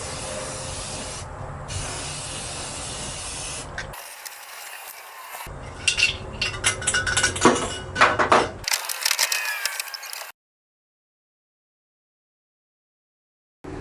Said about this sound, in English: Need to spray paint more on top.